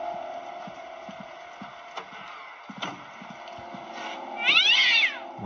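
A black cat in the horror game Slendrina gives one drawn-out, clear meow near the end, heard over a steady eerie game ambience with a few soft knocks and creaks.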